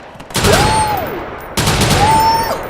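Sniper rifle fire in the game Watch Dogs 2: two loud sharp reports about a second apart, each with a ringing tail, close and prominent.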